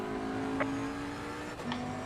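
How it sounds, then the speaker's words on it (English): Racing car engine drone from Assetto Corsa Competizione, a GT3 race at Donington Park, holds a steady tone with a faster car closing in from behind, brief whooshes rising over the continuous engine note. "Faster car behind you."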